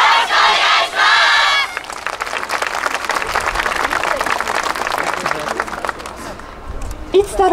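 Crowd at a Kyoto Sakura Yosakoi street venue cheering a Kobe University yosakoi dance team: a loud opening burst of cheers, then sustained rhythmic clapping and scattered shouts that gradually thin out.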